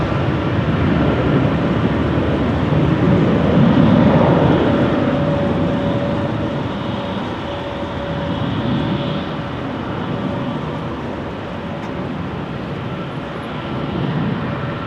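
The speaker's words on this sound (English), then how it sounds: "Sound you're hearing is a 737 from KLM doing a line cutters departure" A KLM Boeing 737 roars through its takeoff at a rainy Amsterdam Schiphol Airport, a broad, rumbling engine wash that swells and then slowly recedes into the distance, with no talking.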